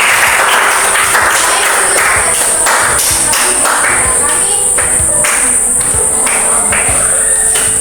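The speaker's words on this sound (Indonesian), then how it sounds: "Sekali lagi kita berikan tepuk tangan." Classroom applause during a civics lesson, a steady wash of many hands clapping throughout, loud and close, with a high constant whine and some voices underneath.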